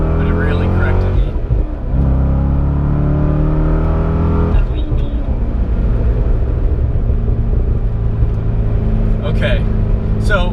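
A C6 Corvette accelerates hard up an on-ramp, its engine roaring loud and close with rising revs through gear changes, while a driver talks over it.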